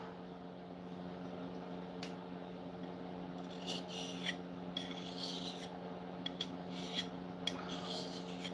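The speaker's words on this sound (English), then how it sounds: "I got this little stone. I'm not actually really used to sharpening chisels." A steel chisel, cleaned of most of its rust, scraping back and forth on a small sharpening stone in rough, uneven strokes over a steady low machine hum, with several louder rasping passes in the second half.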